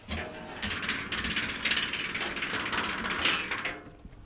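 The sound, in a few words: whip rattling against a tunnel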